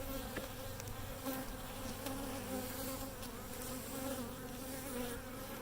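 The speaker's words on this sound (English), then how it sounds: "There are just so many bees." Honey bees swarm around an open Flow Hive during an inspection, a dense continuous buzz from many insects close by, steady and loud throughout with no voices.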